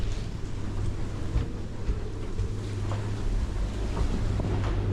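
Boat engine running through a storm, a low steady drone nearly buried under loud wind buffeting and crashing waves, continuous and rough with no talking.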